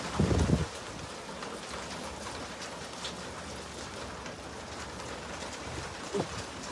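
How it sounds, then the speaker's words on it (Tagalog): Heavy typhoon rain pouring steadily outdoors beside a vegetable garden, a dense, even hiss with gusty wind, a couple of low thumps at the start and near the end, moderately loud. "Ayan, lakas ng ulan mga kaibigan, no?"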